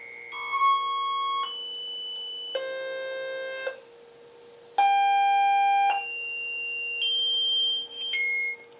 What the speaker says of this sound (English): It's a good sound shaper, makes some interesting noises.